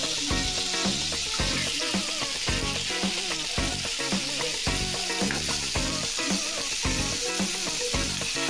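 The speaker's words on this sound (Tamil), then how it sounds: "இப்போ எல்லாமே சேர்ந்து ஒரு 2 நிமிஷம் நல்லா வதங்கட்டும்" Chicken pieces and tomato sauté together in a pan for a chicken kurma, giving a loud, steady sizzle and crackle that runs without pause, with occasional stirring scrapes.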